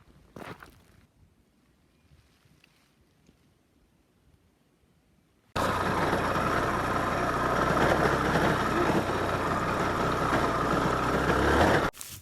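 A motorcycle on a forest trail in the Hautes-Pyrénées starts up after a near-silent stretch, then runs with a loud, steady close engine drone until it cuts off.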